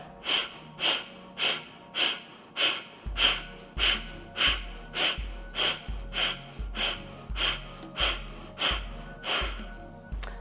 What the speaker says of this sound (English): We take a big deep breath in and then rapid breaths out.